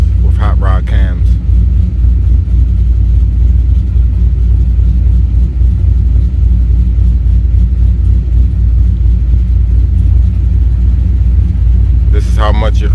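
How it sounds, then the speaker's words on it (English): Lumpy, uneven idle of a car engine fitted with hot rod cams, a steady low rumble that loping throughout, close and loud, with brief bits of speech at the start and end. "This is how your car rocks with hot rod cams."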